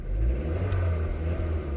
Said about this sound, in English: So if I accelerate the car